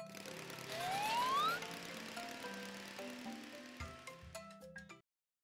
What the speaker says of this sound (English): your alarm is ringing